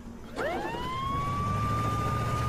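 A siren rises at about 0.4 s into a steady, sustained wail that holds loud and clear to the end, over a low background hum, in Family Guy: The Game.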